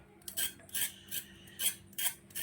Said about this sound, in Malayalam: നമുക്ക് ഈ ക്യാരറ്റിന്റെ തൊലി നന്നായിട്ട് ചുരണ്ടി കളയാം